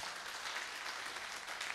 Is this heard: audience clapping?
yes